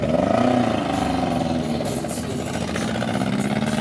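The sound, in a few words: race car engine running on a missing cylinder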